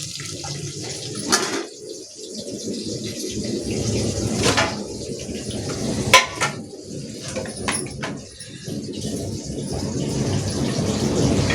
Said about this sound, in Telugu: గోంగూర బాగా వేగుతుంది నూనె ఎక్కువ ఉంటే.